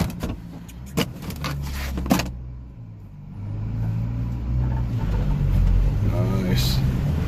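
A Subaru Sambar kei truck off-road on open acreage shifts into second gear, a low engine rumble swelling and straining after a couple of clunks from the gearbox, with people talking inside the cab.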